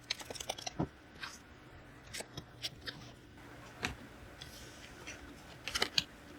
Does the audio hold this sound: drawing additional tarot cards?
yes